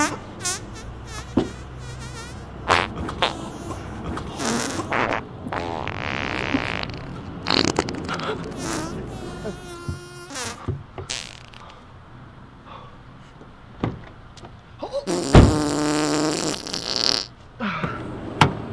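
A string of loud, buzzy fart noises in a comedy sketch: repeated sputtering bursts of varied length, some drawn out and squeaky, heard up close with no talking.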